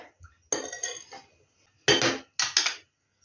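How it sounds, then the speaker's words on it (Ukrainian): Tomato paste being stirred into water in a pot for braised country-style ribs: a spoon scrapes and clinks against the pot in several short, close bursts with quiet gaps between. "буду розводити томатну пасту у воді"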